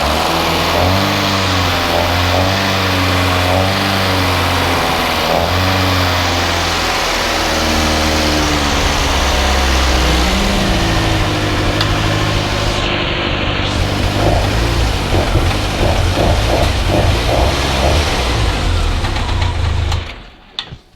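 A Jet Motors 1310 engine runs on its first start, loud and close with a throbbing, uneven rumble that varies in pitch and pace throughout before cutting off near the end.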